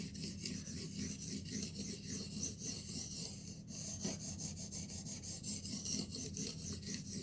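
Continuous gritty rasping of a knife's burr scraping across a sharpening stone, steady back-and-forth strokes at close range with no voices.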